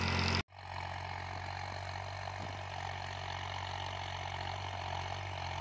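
A New Holland 4x4 tractor engine runs steadily under full heavy load while working a harrow, its speed dropping only 50 to 100 RPM, a loud continuous drone with a low hum, following a brief cutout at the start; no one speaks.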